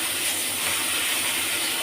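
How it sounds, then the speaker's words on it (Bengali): Ground spices with a pinch of salt fry in a hot pan, giving a steady, even hiss of sizzling oil that holds for a short stretch with no talk. "দিয়ে এবার একটু ভাজছি।"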